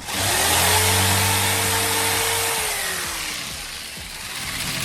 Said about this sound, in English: I have my jigsaw. I'm just gonna cut this one